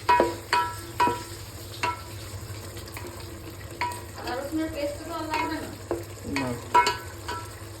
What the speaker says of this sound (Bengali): আলুগুলোকে এর সাথে ভালো করে মিশিয়ে দেবো যাতে এর মশলাগুলো আলুতে ভালো ফ্লেভার দেয়